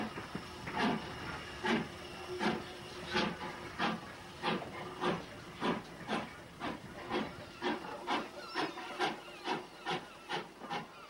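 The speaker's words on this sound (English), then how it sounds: "Having collected its train, number 35 leaves the pier with a working for Ventnor" Isle of Wight steam locomotive number 35 pulling away from the pier with its train bound for Ventnor, rhythmic steam chuffs beating steadily about once a second over a hissing background, fairly close, with no voices.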